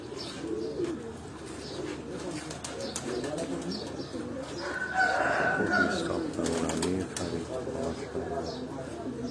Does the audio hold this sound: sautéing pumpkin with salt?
no